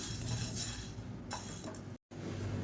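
Dry-roasted green gram is tipped from a pan onto a plate, giving faint, quick clinks and soft rattling scrapes of small grains and metal against the dish, heard quietly with no voices.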